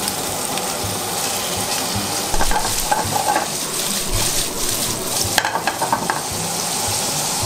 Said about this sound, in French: Mon huile est chaude, je vais y mettre mes lardons.